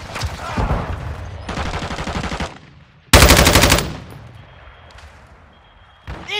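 Automatic gunfire in Call of Duty: Modern Warfare II rattles in several loud, close bursts of rapid shots, separated by short pauses, with a sharp final burst starting near the end.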